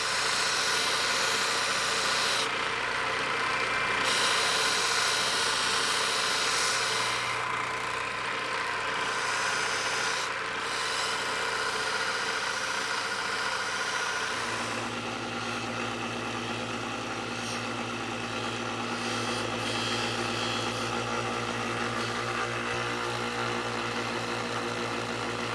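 Metal battery cell tester parts being buffed on a fiber wheel, a loud continuous motor whir and hiss of the spinning wheel that shifts to a lower hum partway through, with no speech.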